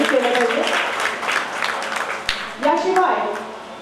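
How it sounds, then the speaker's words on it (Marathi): Audience applause at a Shri Ram Navami festival classical vocal concert held by Shri Ramji Sansthan, moderate clapping under a speaking voice and sung or announced tones that rise and fall, with a sharp knock partway through. "मला वाटतं सगळ्यांनी टाळ्या वाजवून या त्यांच्या पुरस्कारांचं कौतुक केलं पाहिजे."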